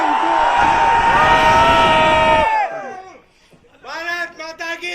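Crowd of students at a live PW Vidyapeeth event in Delhi roaring and yelling loudly together for a couple of seconds, the shout fading out before scattered voices and whoops pick up again.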